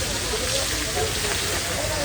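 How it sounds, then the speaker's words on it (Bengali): Cooking oil heating in a pan before hilsa fish is fried, giving a steady, continuous hiss throughout. "তেল গরম হইতেছে।"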